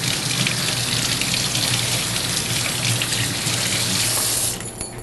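Running water gushes steadily from a tap over something in a sink, a constant splashing stream that cuts off abruptly near the end.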